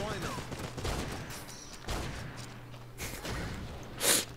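Gunshots in the video game Terrorist Takedown: War in Colombia, several sharp, loud shots at irregular intervals with a burst near the end, heard close up over low background game noise.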